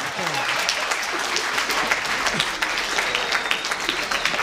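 An audience at a Geek Faëries convention talk bursts into applause, a dense, sustained clapping that fills the space, with voices talking faintly underneath.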